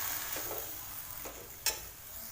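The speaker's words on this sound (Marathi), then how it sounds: "असं परतून घेतलं की ही भाजी माझा खाली बसत चालते" Pathri leafy greens stir-fry quietly in a pan, giving a soft continuous sizzle with three or four scraping stirs, the last one sharper and louder.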